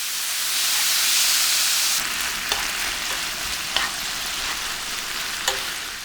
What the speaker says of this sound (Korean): 중불에 팬을 올리고 달궈지면 양념한 채끝 등심을 넣고 골고루 볶아주세요